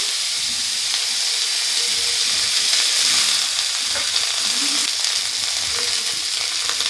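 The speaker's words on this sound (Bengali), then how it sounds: "তেল দিয়ে দিয়েছি, দিয়ে দেবো ডাঁটাগুলো।" Dense, continuous sizzling hiss of drumstick (sajne) stalks frying in hot oil, close and fairly loud, with faint scraping movement in the pan.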